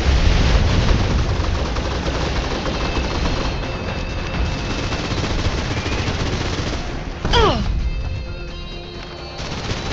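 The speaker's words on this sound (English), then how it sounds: "Suppressive fire." Suppressive gunfire in the video game Snowbreak: Containment Zone, with sustained rapid automatic shooting that stays loud and close. Near the end it pauses for a sharp impact and a falling whine, then continues more quietly.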